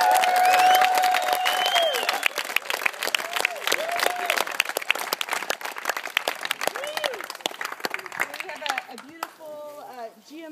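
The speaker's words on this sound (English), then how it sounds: "just give everybody yourselves an applause" Crowd applause and cheering at an outdoor victory party celebrating a GMO crop ban, dense clapping sustained for several seconds with voices calling out over it, thinning toward the end as talk takes over.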